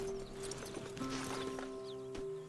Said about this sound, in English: I also feel like we need to feed our horse.